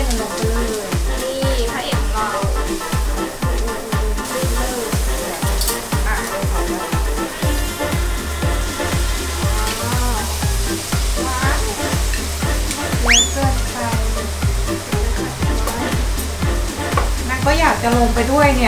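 Macaroni and bacon stir-fried in a pan, with brisk, rhythmic spatula scraping and tapping over a continuous sizzle throughout, someone talking at times above the cooking.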